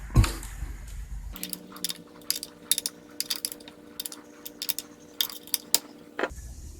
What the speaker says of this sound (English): get both of these bolts snugged up, and then I'm going to go back and forth until they're both good and tight